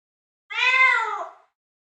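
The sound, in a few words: kitten crying in the snow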